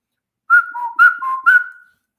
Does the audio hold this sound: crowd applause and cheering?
no